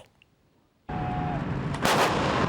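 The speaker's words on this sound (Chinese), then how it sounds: "演训现场炮声真大声" After a moment of near silence, a sudden loud blast of heavy artillery fire erupts at a military exercise in Taiwan, with a second, stronger boom rolling in partway through.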